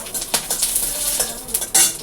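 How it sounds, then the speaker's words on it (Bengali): Cumin seeds and dried red chillies, the chillies home-dried from green ones, sizzle in hot oil as a tempering, a close crackling hiss with stirring scrapes and brief bright spatters throughout. "ফোড়ন দিয়ে দেবো এখন এই জিরা দিয়ে দিলাম শুকনো লঙ্কা"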